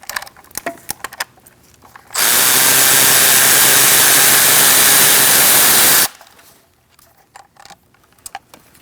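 A power tool whirs loudly and steadily for about four seconds, taking out the fuel rail bolts on a 3.0L V6 engine of a 2008-2014 Mercedes-Benz C300, with quieter clicks and shop handling before and after.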